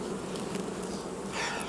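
Honey bees buzz steadily around a large hive that is trying to swarm, a dense continuous hum close by with no talking over it.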